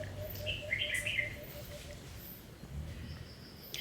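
Faint bird chirps and short tweets sound in the background, a few quick calls over a quiet outdoor hush.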